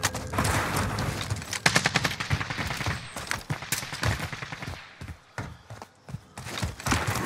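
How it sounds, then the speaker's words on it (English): Rapid bursts of automatic gunfire from an online multiplayer shooter game laying down cover fire, sharp repeated cracks in uneven volleys that thin out toward the end. "gonna lay down cover fire"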